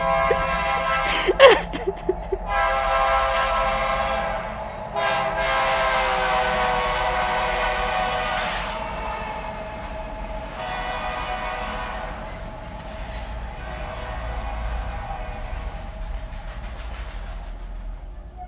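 A passing train sounds its horn in repeated long chords, loud and fairly near, with a brief metallic clank early on and a steady low rumble of rolling cars continuing underneath.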